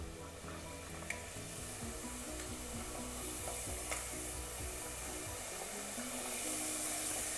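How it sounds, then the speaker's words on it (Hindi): Namak pare dough sizzles steadily in hot oil over a medium flame, a dense, even frying hiss running throughout with a few faint clicks, close and fairly quiet, no voices. "अब मीडियम फ्लेम पे ऑयल गरम करके हम इसे ऑयल में डालते जाएंगे"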